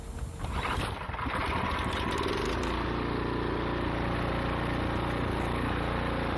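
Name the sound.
Cub Cadet snowblower engine starting and running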